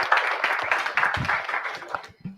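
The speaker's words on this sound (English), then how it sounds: "Hand clap for that." A group clapping hands in an office celebration, a quick burst of close, rhythmic claps that taper off near the end, with a voice briefly audible.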